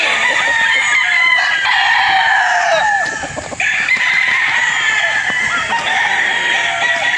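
A gamefowl broodcock crows loudly and close, its drawn-out calls repeated amid clucking and other roosters calling around it on a farm.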